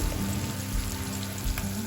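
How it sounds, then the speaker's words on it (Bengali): Onions and green chillies fry in hot oil with cumin seeds and a bay leaf, giving a dense, steady, close crackling sizzle that continues without a break and has no talking over it. "পেঁয়াজ ভাজা হয়ে গেছে"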